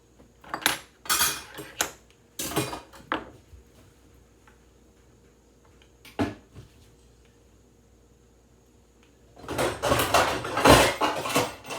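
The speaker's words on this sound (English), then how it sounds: "Let me get the pan." Metal pans, dishes and cutlery clatter and clank in a home kitchen while a pan is pulled out, in several sharp bursts separated by quiet gaps and ending in a longer, louder stretch of rattling.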